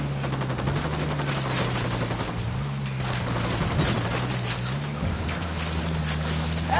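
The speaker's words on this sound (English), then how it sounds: "Opening fire on these fuckers." Sustained gunfire in the Ghost Recon Wildlands shooter game, a dense continuous fusillade of rapid shots layered over a steady low engine-like drone, loud and unbroken throughout.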